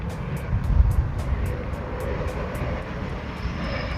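An Air Canada airliner passes overhead above an industrial area near Toronto's airport, its engine roar a steady broadband rumble over a few seconds with no voices.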